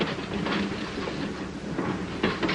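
Freight cars are made up in a rail yard, giving a continuous rumbling roll with faint clicking of wheels over joints, steady and moderately loud with no voices.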